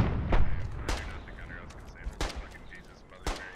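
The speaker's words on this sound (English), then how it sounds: "Y'all shooting? Is that you guys?" Gunfire in the video game Squad on the Fallujah map: four sharp, fairly distant shots crack out at irregular intervals over a low, rumbling background.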